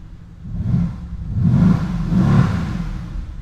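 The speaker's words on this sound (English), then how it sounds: "let's just give this a couple revs and see what it sounds like" Two or three quick throttle blips from a 2016 Mercedes-AMG GT S, each rising into a deep growling surge and easing back to a rumbling idle, close and fairly loud with no voices.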